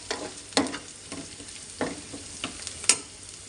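Crushed garlic cloves frying with raw banana pieces in a pan, a soft continuous sizzle punctuated by a few sharp spoon scrapes and taps, close up and fairly quiet, with no one talking.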